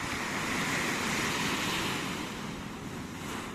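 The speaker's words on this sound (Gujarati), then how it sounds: "જો કેટલા મોજા આવવા માંડ્યા, પહેલાં આટલા નહોતા આવતા" Sea waves surge and crash onto the shore at Porbandar, a loud, continuous wash of surf with no voices.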